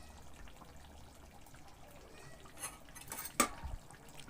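Masala being stirred into chicken curry in a pot: soft, faint scraping and wet stirring, ending in a brief sharper clink of a utensil against the pot.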